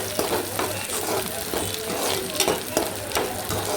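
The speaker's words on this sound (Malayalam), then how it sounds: "ഇതെല്ലാം കൂടെ ഒന്ന് നന്നായിട്ട് മൂപ്പിച്ചെടുക്കണം" Dried red chillies and garlic fry in hot oil in a pan for ginger tamarind curry, a steady crackling sizzle punctuated by repeated scrapes and knocks of a stirring spoon.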